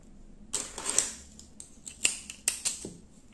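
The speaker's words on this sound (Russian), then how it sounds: "Здесь нить я обрезаю." Scissors snip through crochet yarn while finishing a hand-crocheted poncho, giving several crisp, close cuts spread over a few seconds with quiet handling noise between them.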